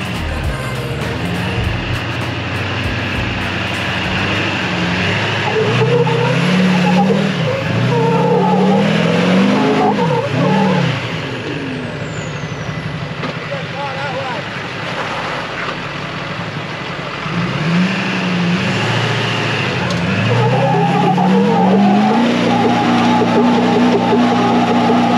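A Duramax diesel truck labours on hard off-road tracks, its engine revving up and down in repeated surges, loud and close and running continuously with no talk.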